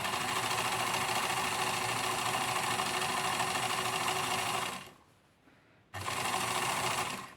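A sewing machine overlocking fabric hums steadily and close up, stops for about a second, then starts stitching again.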